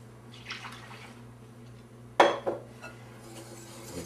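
Yorkshire pudding batter being stirred with milk in a bowl: a few utensil clinks and scrapes against the bowl, one sharp knock and a couple of softer taps, fairly faint and without speech.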